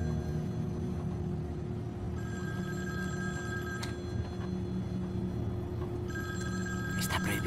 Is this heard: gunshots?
no